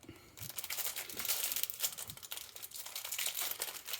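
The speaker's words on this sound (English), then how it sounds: "Unwrap the last injector cup." A packaged diesel injector cup is unwrapped by hand, giving close, continuous crinkling and rustling of plastic wrap in irregular bursts for several seconds, without talk.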